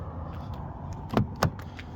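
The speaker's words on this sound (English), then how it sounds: "I can pull down on the handle to close it, or I can press this. This closes it and locks it." Two quick muffled clunks of a 2024 Subaru Outback Limited XT being closed and locked, over a low steady background hum, close by.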